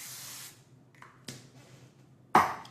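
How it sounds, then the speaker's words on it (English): Several short bursts of cooking spray hiss up close onto a baking sheet: a long spray, a couple of brief puffs, then a final sharp spritz. "give it a quick spray with some cooking spray"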